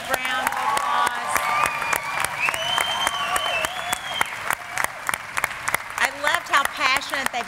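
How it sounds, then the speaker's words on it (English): An audience at an AWS competition final applauds with dense, sustained clapping, while voices and cheers carry over the top. "Can we give them just another big, big round of applause?"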